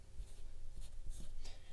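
Marker writing a name on paper for a landscape art project, a close, dry squeak-and-scratch of short strokes with brief pauses over quiet room noise.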